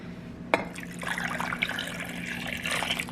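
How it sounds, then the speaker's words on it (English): Water pours into a cooking pot holding snapper and mackerel, starting with a sharp clink and then a steady splashing fill that runs close by on its own. "So I'm gonna add some water to this."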